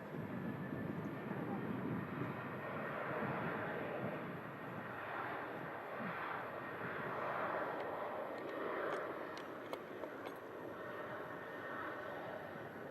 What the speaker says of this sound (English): Oh my gosh, it's an EasyJet Airbus A380?